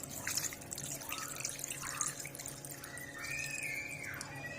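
Water trickles and drips into a pot of meat already seasoned with vinegar and salt for aloo gosht, a soft, quiet, continuous pouring heard alone.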